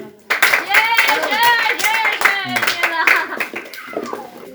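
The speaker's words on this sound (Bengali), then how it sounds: "হাততালি" Children clap their hands in a burst of lively applause during a token-picking luck game at home, the clapping mixed with excited kids' voices talking and shouting throughout.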